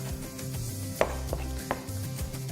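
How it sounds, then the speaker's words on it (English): Knife chopping half of a large shallot on a cutting board, three sharp separate chops sounding close against a steady background of low music. "Then finish up dicing."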